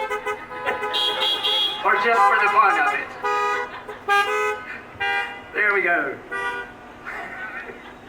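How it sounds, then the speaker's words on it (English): Car horns honking in bursts at a drive-in high school commencement, several toots spaced across the clip, mixed with a person speaking over a PA. "Horn honking is our clapping, so you're welcome to honk your horn instead of clap"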